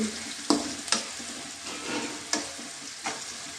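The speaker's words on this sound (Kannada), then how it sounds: "ಇದು ನೋಡಿ ಚೆನ್ನಾಗಿ ಫ್ರೈ ಆಗ್ತಾ ಇದೆ ಶುಂಠಿ ಬೆಳ್ಳುಳ್ಳಿ ಪೇಸ್ಟ್ ಆಗ್ತದೆ" Ginger garlic paste frying with onion in a pan for egg masala, a steady close sizzle punctuated by sharp taps and scrapes of a spoon against the pan every second or so, no talking.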